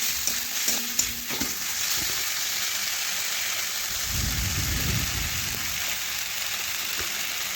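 Spices and turmeric being stirred in a cooking pan, a steady sizzle with a few early scraping knocks of the spoon and a soft low rumble midway, no voices.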